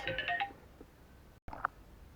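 A mobile phone's ringtone plays a brief run of bright electronic tones, faint and slightly distant, followed by a cut of silence and a single louder beep.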